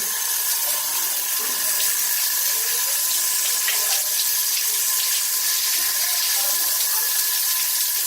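A Flexispray Bermuda II hand shower sprays water at 9 liters per minute, giving a loud, steady, close hiss that runs throughout without a break.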